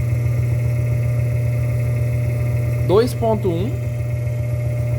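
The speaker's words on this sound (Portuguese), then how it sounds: "O motor ligou." A three-phase electric motor wired to single-phase mains through a permanent capacitor runs with a loud, steady electrical hum, while a voice briefly reads out a number.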